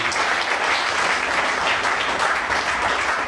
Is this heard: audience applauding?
yes